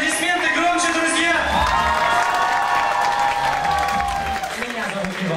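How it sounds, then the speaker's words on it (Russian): Louder cheering and shouting from a youthful audience at a team competition show, excited voices and whoops carrying over scattered clapping in a continuous, lively wall of crowd noise that eases slightly at the close. "Аплодисменты громче, друзья!"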